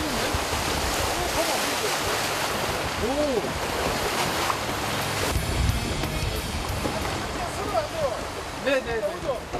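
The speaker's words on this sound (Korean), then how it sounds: "파도가 좀 세는데?" Rough ocean waves churn and slosh continuously with gusty wind around a small boat harvesting seaweed off Jindo, Korea, while voices are faintly heard over the water.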